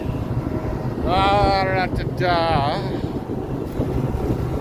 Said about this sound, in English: The wind sure picked up in the last hour.